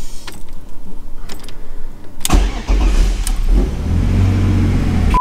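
A BMW E46 engine cranks and catches at once, then settles into a loud, steady idle close by; a faint jingle of keys precedes it.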